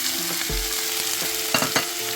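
Leek frying in a hot pan, a steady close sizzle with a few clatters from stirring, and no talking.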